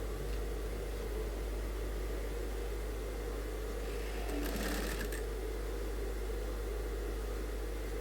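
A sewing machine stitches a suit, a faint steady mechanical hum with a brief louder burst of running midway, no talking.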